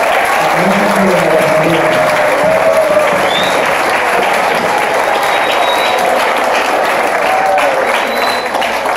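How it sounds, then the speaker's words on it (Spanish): Students are applauded by a university audience, with sustained loud clapping and some crowd noise filling the whole stretch, while a voice speaks briefly over it. "un fuerte aplauso para ustedes por"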